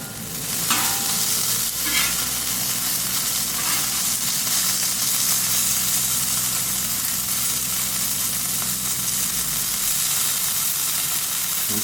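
Egg omelettes sizzle and fry steadily on a Camp Chef FTG600 flat top grill outdoors, a loud constant crackle with a low burner hum beneath and a few light tool taps early on.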